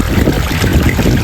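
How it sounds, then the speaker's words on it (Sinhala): Water rushes through an irrigation canal toward paddy fields, a loud, close, continuous churning roar with no pauses. "මේ වතුර වැටෙන සද්දය අහන මං අකමැති කිව්වොත් මං කියන්නේ බොරුවක්"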